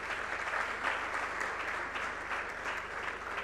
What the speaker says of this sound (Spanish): Un aplauso nuevamente para él.